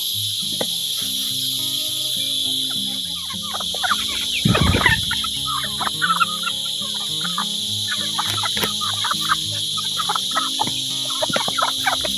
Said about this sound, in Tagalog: pakakainin natin yung ating alagang manoks sa kanilang kulungan